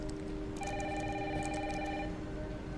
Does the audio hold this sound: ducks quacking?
no